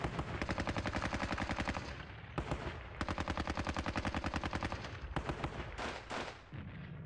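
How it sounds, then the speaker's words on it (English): A machine gun fires long, rapid, loud bursts in the World War II strategy video game Squad Battles, with a brief pause between bursts and a few scattered shots near the end. "Let's take this machine gun here."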